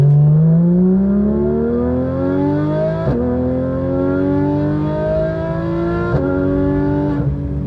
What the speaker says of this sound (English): There's so much power, it's so loud, it's so aggressive, but the engine is insanely good. It revs so quickly.